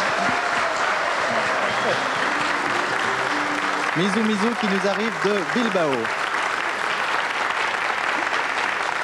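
A French television talk-show studio audience applauds loudly and continuously while a host introduces a guest over the clapping.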